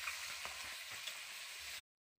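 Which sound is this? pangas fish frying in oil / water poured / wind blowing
pangas fish frying in oil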